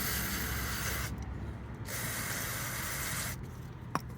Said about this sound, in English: you just spray generously